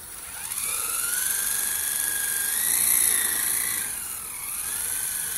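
A small waterproof remote-control helicopter spins up and lifts off, its high-pitched motor whine and whirring rotor rising and falling in pitch as it hovers close by.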